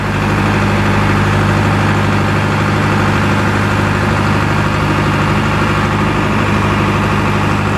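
Heavy, loud and constant, the Powertrac tractor engine chugs right up close with no break and a deep rumble throughout.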